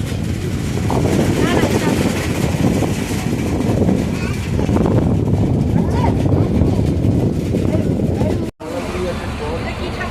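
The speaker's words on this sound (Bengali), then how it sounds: "আমরা আবারও লঞ্চে উঠে পড়েছি এখন আর কোথাও দাঁড়াবে না লঞ্চটা এখন ডাইরেক্ট সোনাখালিতে যাবে" A passenger launch cruising through the Sundarbans gives a loud, continuous engine drone mixed with wind and water rush, steady throughout except for one brief dropout.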